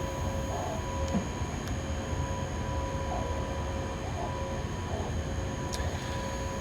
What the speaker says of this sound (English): The latest version of the TRAXX 2 locomotive, Baureihe 186.